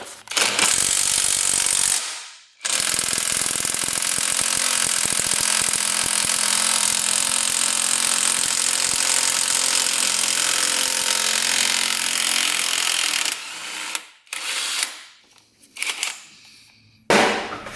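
Ratcheting hand tool cranking loose a stuck swing arm bolt on a 2-stroke race quad, a loud continuous rapid clicking held for about ten seconds with short bursts after brief pauses, close up and without speech.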